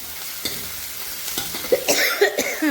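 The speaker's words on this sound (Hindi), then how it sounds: "लोहे की कढ़ाई में बना रही" Vegetables cook and are stirred in an iron kadhai in a home kitchen, with scattered scraping clinks of a spoon against the wok over a low sizzle, sharper near the end.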